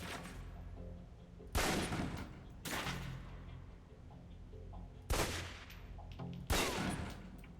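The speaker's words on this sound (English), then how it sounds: "Let's start with the pistol. the pistol, then aim down range and take some shots at the target." Pistol fired at a target on a video game shooting range: four or five sharp, loud single shots spaced a second or more apart, each with a short ringing tail over quiet background.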